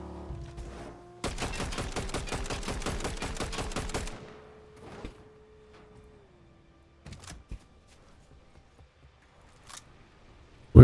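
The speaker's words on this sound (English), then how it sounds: "I hear shooting." A rapid burst of automatic gunfire in a video game rattles off in a quick rhythmic string, followed by a few scattered single shots.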